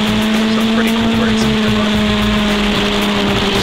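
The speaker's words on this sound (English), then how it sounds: "Cars are 10 tenths and above as they go through the final corner here at VIR" F1600 race cars going flat out through the final corner at VIR, a loud, sustained engine drone at high revs holding steady, close and continuous, with faint commentary underneath.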